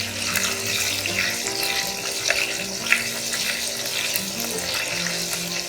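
Ginger-garlic paste sautéing in hot oil in a pan for a chicken curry, a continuous close sizzle with occasional small pops, steady and moderately loud.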